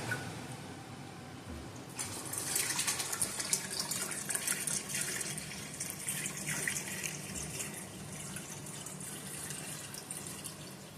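Water gushes steadily from a tap into a pressure canner holding seven quart jars of ground beef, a loud continuous splashing and filling that starts abruptly after a quiet moment and runs unbroken, with no talking.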